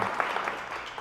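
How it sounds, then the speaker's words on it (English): A brief burst of steady crowd applause for event staff and volunteers at a community meeting, continuous clapping with no talk. "So just a big round of applause for all of our staff and volunteers"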